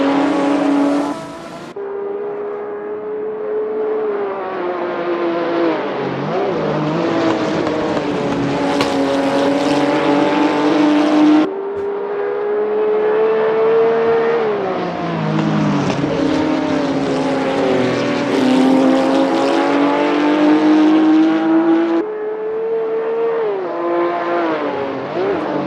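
Ford GT40 V8 race car engine at Brands Hatch in a 1966 British Sportscar Championship race, a loud sustained roar rising and falling through gear changes, with brief dips as it shifts and passes, no talk.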